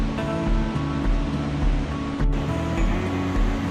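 The Azul river rushes through a rocky canyon gorge in a steady, loud roar of churning water with slight surging swells, heard alone without any talking.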